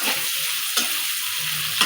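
Spice paste sizzles in a hot pan on the stove, a steady close frying hiss with brief stirring scrapes at moments, loud and continuous without any talking.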